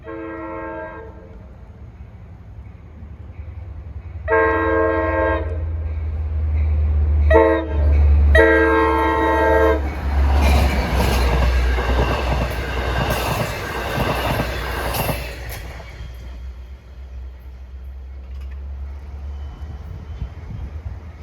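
A train passes on the Montauk Branch east of Babylon, Long Island, sounding its horn in several loud blasts. The horn is followed by a long rumbling pass with rattling wheels and a steady low engine drone, and no one speaks.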